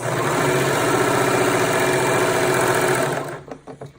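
A sewing machine runs continuously while stitching a tail of thread past the fabric edge of a car trash bag, a steady close mechanical whir that stops after about three seconds, leaving a few faint clicks.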